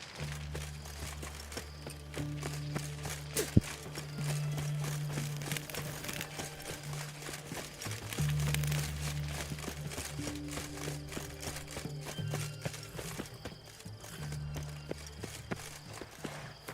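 A horse gallops in The Witcher 3, its rhythmic hoofbeats pounding steadily over a continuous bed of game music with low sustained tones, moderately loud and unbroken throughout.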